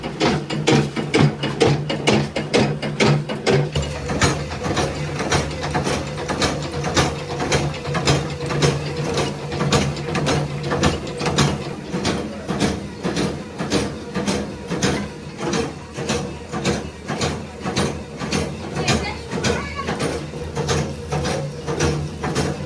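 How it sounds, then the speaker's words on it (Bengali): A batasa machine forming sugar-syrup sweets clatters loudly and close, its ratcheting mechanism clicking in a fast, regular cycle that runs throughout without talk. "আর সাদা বাতাসা এই যে মেশিনে দেওয়া হচ্ছে বাতাসা"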